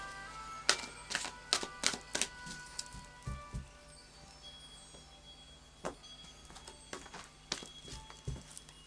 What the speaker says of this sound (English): So I'll just do a final shuffle of the Psychic Tarot.